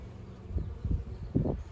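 Honey bees buzz low and close at an opened hive just after a puff of smoke, the hum swelling in a few uneven pulses with no voices.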